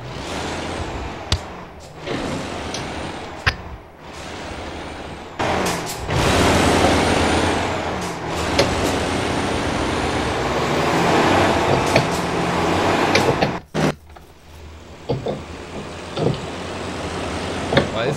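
A truck in American Truck Simulator backs up: a loud engine drone rises and falls, with sharp air-brake hisses and clunks breaking in between stretches.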